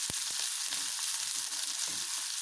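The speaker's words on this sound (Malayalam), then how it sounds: "കടുക് പൊട്ടിക്കഴിയുമ്പോൾ എടുത്ത് വെച്ചിരിക്കുന്ന ചുമന്നുള്ളി അരിഞ്ഞു വെച്ചിരിക്കുന്ന ഒരു 2 ടേബിൾ സ്പൂൺ കാണും." Chopped shallots fry in oil after mustard seeds pop for a Kerala fish curry, giving a soft continuous sizzle with a few sharp pops near the start, and no talking.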